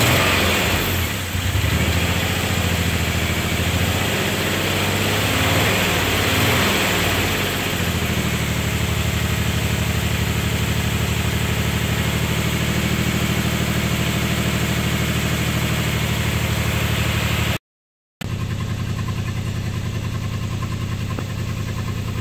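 A Nissan engine idles after an exhaust manifold replacement, a steady low rumble that stays close and even throughout, with a brief rougher stretch early on and a momentary dropout near the end.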